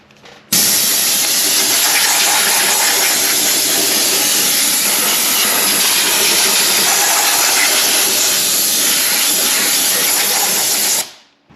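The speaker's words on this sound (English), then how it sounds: "I'm going to take some compressed air and blow off all this junk that's on the top here" Compressed air blasts debris off the top of a Hyundai 3.3 V6 engine in a loud, continuous close hiss that starts abruptly and cuts off near the end.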